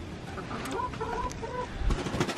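Several backyard chickens cluck softly close by around a newly installed feeder, a steady low chatter of hen noises with faint rustling throughout.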